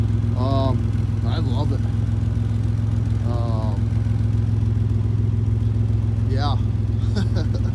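A project vehicle with no muffler runs nearby in a loud, raw, steady low rumble with no pauses, while people talk over it throughout.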